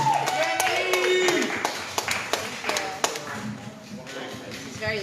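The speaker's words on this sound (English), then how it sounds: "Give Jenny Feldy a nice round of applause." Scattered audience clapping for performer Jenny Feldy at an outdoor 9-11 event, a handful of sharp separate claps mixed with talk and background sounds.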